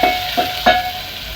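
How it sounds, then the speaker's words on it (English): Onions fry in a pot for plain pilau, giving a soft, steady sizzle broken by a few brief scraping stirs close by, with no talking. "So we are going to cook our onions until it turns"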